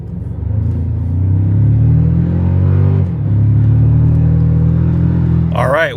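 A Toyota Tacoma TRD Pro pickup truck pulls away, its engine rumbling low and loud with rising and falling tones as it accelerates, close up from inside the cab, ending with a brief higher-pitched sound.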